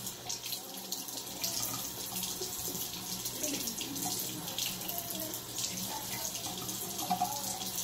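Steady hiss of tap water running into a bathroom sink while hair is being wet, a continuous close splashing flow with slight gurgles, at an even level throughout.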